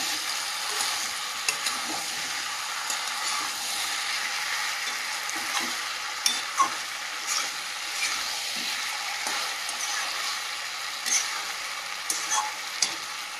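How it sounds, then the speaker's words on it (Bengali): Goat mutton and previously fried potatoes stir-fry together in a pan, with a soft, continuous sizzle broken by repeated sharp scrapes and clinks of a spatula, and no voices. "ভেজে রাখা আলুগুলো দিয়ে দেবো দিয়ে ভালোভাবে কষিয়ে নেবো মাংসের সঙ্গে"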